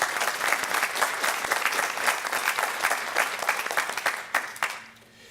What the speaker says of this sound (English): let's give a round of applause to PCN